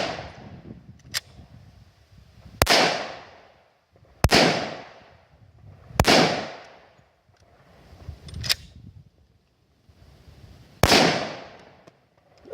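Five sharp, loud gunshots from a .460 Rowland pistol firing Lehigh Defense ammunition, spaced a couple of seconds apart, each with a ringing decay, plus a few faint clicks between shots.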